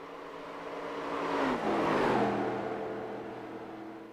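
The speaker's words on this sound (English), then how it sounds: "You can just hear the car is actually sliding all the way around." A stock car slides around a corner in the Vertex Stock Car Cup racing game at the 1987 Darlington 250, with a loud engine and tire noise that swells, bends downward in pitch as it passes, and then fades.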